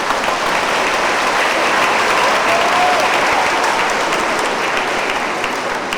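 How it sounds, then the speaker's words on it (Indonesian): Sustained audience applause fills a church after a performance, dense steady clapping from a large crowd throughout with no talking. "beri tepuk tangan."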